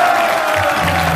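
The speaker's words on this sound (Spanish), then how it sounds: "Un aplauso para Motita" A crowd at a stand-up comedy show of Iván Arenas bursts into loud applause and cheering after a joke, a dense roar with whoops, close and continuous for the whole moment.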